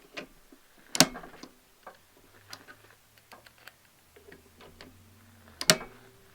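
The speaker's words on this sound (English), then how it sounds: "now we're going to torque these down" Clicks and small metallic ticks from a torque wrench snugging down screws on aluminum Nightforce 2.5-10x42 scope rings, a few sharp close snaps spaced irregularly over quiet room tone, with faint low hum between.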